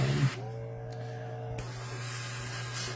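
Airbrush spraying airbrush cleaner and thinner while painting HeroQuest miniatures, a short burst of soft hissing spray over a steady low hum from the compressor, fairly quiet and close.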